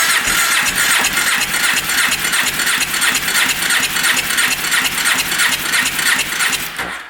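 ATV engine cranking over continuously with the throttle open during a compression test, a loud, rapid, even chugging rhythm close up that runs for several seconds before cutting off.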